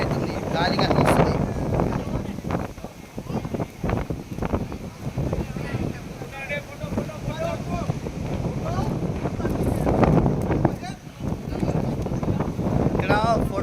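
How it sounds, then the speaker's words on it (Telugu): Strong seashore wind at Dhanushkodi, loud gusty roar and heavy buffeting on the microphone throughout, with a person talking under the wind noise. "ఏమో గాలికి మొత్తం నెట్టుకొస్తున్నాం మేము"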